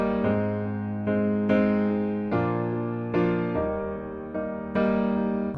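Piano chords played ahead of the beat in a simple pop arrangement, several sustained chords struck one after another at a steady pace, with a clear attack on each change and no talking.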